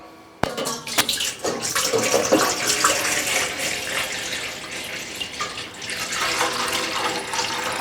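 Yanang leaf juice poured into a pot for Thai bamboo shoot curry, a steady splashing stream starting with a sharp knock and continuing close and moderately loud throughout.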